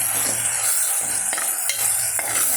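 Onion rice stirred and frying in a pan, a steady close sizzle with a few scraping stir strokes across the pot, no voices.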